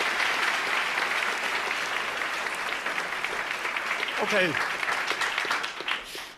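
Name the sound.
audience applause at award ceremony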